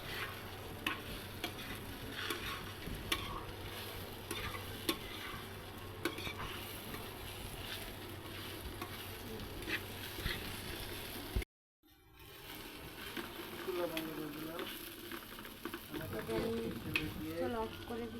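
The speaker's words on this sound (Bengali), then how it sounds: "এই যে আমি অবশ্য আরেকবার একটু নাড়া দিয়ে দিচ্ছি। এই যে দেখো কিরকম দেখছো, একদম ভাজা ভাজা করতে হবে।" Eggplant mash sizzles and fries in a pan while being stirred, a steady soft crackle with scraping strokes, briefly cut off near the middle and then resuming, with faint talk in the background.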